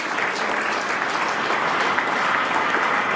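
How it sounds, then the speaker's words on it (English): An audience at a kindergarten festival claps for the kindergarten team in a loud, steady wave of applause that lasts throughout. "I request every one of you to give a good clap to this team"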